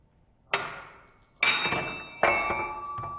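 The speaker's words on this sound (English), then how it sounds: "a quick tap with a hammer did the trick" A hammer taps a steel crossbar on a locomotive smokebox three times in a workshop, each strike a sharp metallic knock with a short ringing decay, evenly spaced and fairly close.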